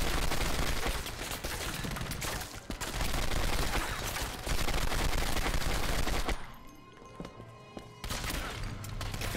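Dense, sustained gunfire in the video game Turning Point: Fall of Liberty, continuous automatic bursts that drop out briefly before resuming, loud and close, with no talk.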